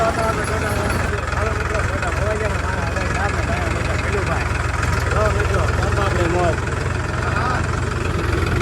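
A tractor engine chugs steadily at idle from start to finish, loud and close, with voices faintly audible beneath the rumble.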